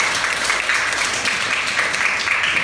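Applause from a church congregation in Bangkok for a missionary, a steady dense patter of many hands clapping with no pauses, close and fairly loud throughout.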